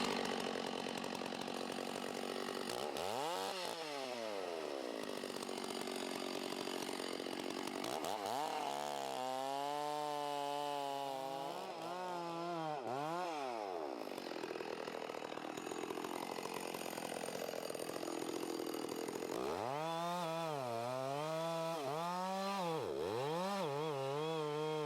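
Chainsaw scribing the back cut on a standing tree during a falling job, the engine revving up and down in repeated surges with long rising-and-falling whines, steady and close throughout.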